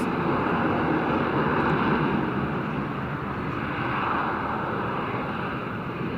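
An RAF Harrier GR7 jet flies at the Farnborough airshow, a loud, steady broadband engine roar that fills the whole clip with no pauses.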